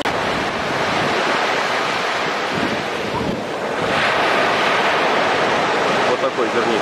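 Surf washes steadily onto a beach in a bay on the Turkish coast beside a hotel, a continuous close roar of breaking waves mixed with gusty wind buffeting the microphone.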